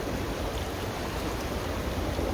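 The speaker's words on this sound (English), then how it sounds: "washing my face in the river" River water flows steadily in Johnston Canyon, a constant broadband rush of current and splashing close by while someone washes their face at the bank, with no talking.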